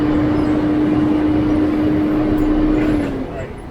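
Volvo truck engine revving on an uphill climb, a steady loud drone with a sustained tone that drops away near the end, heavy road rumble throughout.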